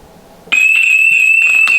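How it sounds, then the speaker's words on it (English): SimpliSafe home security alarm set off by holding down the panic button: a loud, piercing, steady high-pitched electronic tone that starts abruptly and sounds continuously nearby, with faint handling noises underneath. "And it sets off an alarm."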